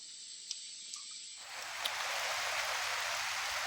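Rain falling on a farm in a heavy storm, starting partway through as a sudden steady hiss that swells and then holds at a constant level, with no voices.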